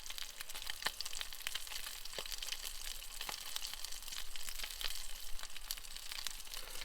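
Food frying in a pan over a campfire inside a Polish lavvu tent, a steady close sizzle with scattered sharp crackles and pops throughout, no voices.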